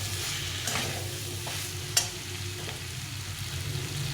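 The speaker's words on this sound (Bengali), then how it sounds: "আলুগুলোকে এখন ভালো করে কষিয়ে নিতে হবে, মশলার সঙ্গে সুন্দরভাবে কষিয়ে নিতে হবে।" Potatoes with spices sautéing in a pan for a Bengali potato curry, a steady low sizzle with a few soft scrapes of stirring and one sharp spatula clink near the middle, no voices.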